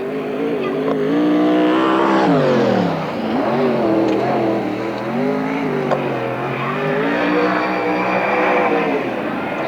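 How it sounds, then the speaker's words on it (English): Sprint cars from a 1992 NARC race at Marysville, California, run flat out on the back straightaway, with loud, close engine roars that repeatedly climb and drop in pitch and a hint of tire squeal, with no voices. "Jim Richardson with the hammer down on the back straightaway."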